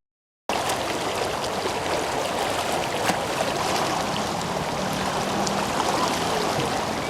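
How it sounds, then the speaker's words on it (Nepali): Swollen rivers in Kathmandu overflowing into settlements during a flood: a loud, continuous rushing roar of fast water that begins abruptly after a brief silence and holds steady to the end. "खोलाहरू पनि पूर्ण रूपमा भरिएर बस्तीतिर प्रवेश गरेका थिए"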